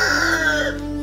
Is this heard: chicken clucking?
yes